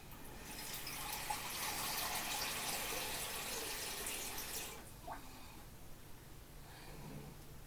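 Tap water gushing steadily for several seconds while rinsing a stock pot, then shutting off, leaving faint clinks and quiet kitchen sounds.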